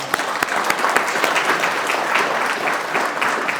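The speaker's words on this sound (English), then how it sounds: "So to Doug Wyrick from Joseph A. Bank, I want to give them a round of applause." A round of applause at a Military Basketball Association Hall of Fame ceremony in Wichita, Kansas, a steady crowd of many hands clapping continuously with a few sharper individual claps standing out.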